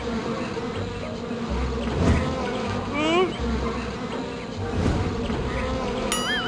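Cartoon bees buzz loudly and continuously in a comedy animation, with whooshes and a few sliding whistle-like effects over the drone.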